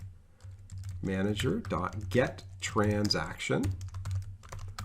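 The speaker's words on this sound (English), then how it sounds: "I'm typing so quickly here." Quick typing on a computer keyboard while setting up a Hibernate and JPA transaction, the key clicks running under steady close-up speech.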